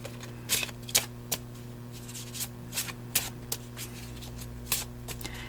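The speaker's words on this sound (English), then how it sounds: "I need to shuffle them more." Tarot cards being shuffled in short crisp riffles and flicks, close and fairly quiet, over a low steady hum.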